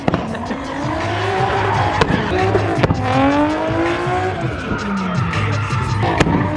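Loud race car engine on a 2-step launch limiter bursts with sharp pops and crackles as the exhaust shoots flames, revs rising and falling in quick stabs, tires squealing briefly.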